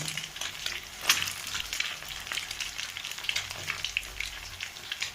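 Onion sizzling and crackling steadily in a hot pan for egg noodles, with a brief louder spatter near the start and occasional stirring scrapes, close and alone with no talk.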